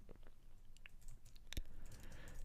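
Quiet, scattered clicks of typing on a computer keyboard, a handful of light taps close by in a very hushed room.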